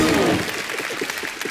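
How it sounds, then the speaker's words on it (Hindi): A studio audience at a comedy and singing show claps for the singer Aditya in a short, dense burst of applause that follows a voice and fades slightly. "एक बार जोरदार तालियां हो जाए आदित्य के लिए।"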